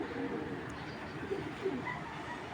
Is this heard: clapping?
no